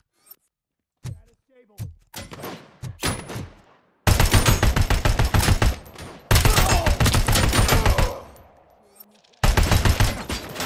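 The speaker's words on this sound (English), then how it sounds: "Oh, it's actually kind of a cool gun." A gun fires in the video game RoboCop: Rogue City, first as a few spaced single shots, then as long loud bursts of rapid automatic fire with brief pauses between them.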